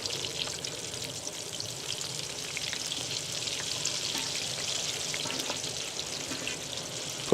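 Fries bubble in hot oil outdoors during a lakeside catch-and-cook, giving a steady, dense hiss and crackle at moderate level that runs unbroken, close by and alone.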